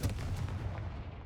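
A Confringo fire spell cast in Hogwarts Legacy on PS5 lands as a loud, booming blast with a heavy low rumble that rolls on and slowly fades over about a second.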